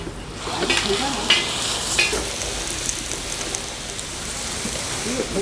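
Chive pancake batter sizzles steadily on an oiled griddle at a street stall, a dense, even frying hiss with a few brief clicks and faint voices in the background.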